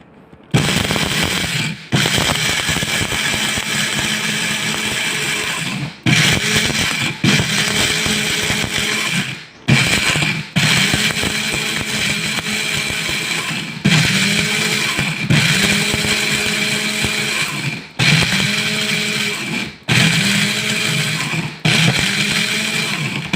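A grinder milling roasted kapeng barako coffee beans runs loud and steady in several long bursts, each cut by brief pauses, with no talking over it.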